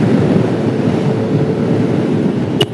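Strong wind buffets the microphone during a road trip by vehicle on the main route from Surabaya to Lumajang through Probolinggo, a loud continuous roar with a short sharp click near the end.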